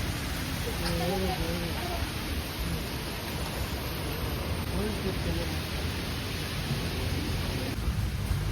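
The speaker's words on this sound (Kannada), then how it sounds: "ಗಾಳಿ ಗಾಳಿ ಫುಲ್ ಗಾಳಿ ಬರ್ತಿದೆ" A strong wind and rain storm at a house blows as a steady, loud roar of gusting air and rain noise. People talk in the foreground over it.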